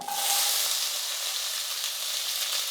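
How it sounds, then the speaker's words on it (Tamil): Chopped onions and curry leaves sizzle in hot oil after fennel tempering, a steady, close frying hiss that holds evenly throughout with no voices. "இப்போ வெங்காயம் கருவேப்பிலலாம் வந்து நல்லா வதங்கட்டும்"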